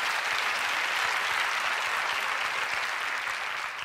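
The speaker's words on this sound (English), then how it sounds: "You should applaud yourselves." A studio audience at the Ellen talk show breaks into loud, dense applause, a steady unbroken wash of many hands clapping at once that holds evenly throughout.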